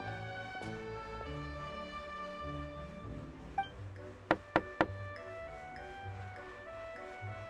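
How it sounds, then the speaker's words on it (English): A door in a video game is knocked three times in quick succession, sharp and clear over soft background music, with one lighter tap just before. "I'll go knock on the door"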